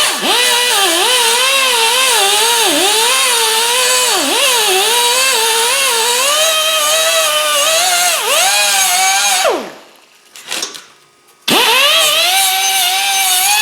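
Die grinder fitted with a stainless steel wire brush working over a titanium exhaust on a Yamaha Apex snowmobile, a loud continuous high whine that dips in pitch under load, cutting out briefly near the end before spinning back up.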